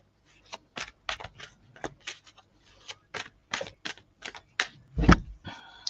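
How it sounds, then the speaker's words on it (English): Tarot cards are shuffled close up in quick irregular riffles and taps, crisp clicking bursts with short pauses between them, and no voice. "You see me shuffling. I'm definitely shuffling."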